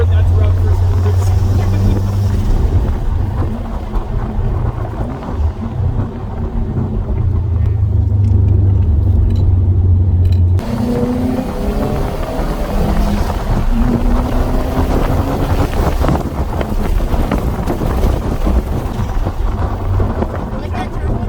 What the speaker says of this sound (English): Like that turbo noise.